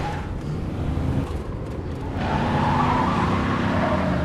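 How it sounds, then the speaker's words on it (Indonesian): In a film scene, a car swerves as another overtakes fast, giving a dense, rushing road and engine roar that swells louder partway through, with a hint of tire noise and no voices. "mobilnya sempat oleng karena ada mobil yang menyalip dengan cepat di belakangnya"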